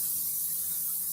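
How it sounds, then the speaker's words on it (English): Butter flavored Crisco cooking spray hisses steadily from the can onto a dish in a kitchen, a continuous close, bright airy spray lasting about a second with no talk. "I've got just some butter flavored Crisco, and I'm going to lightly spray"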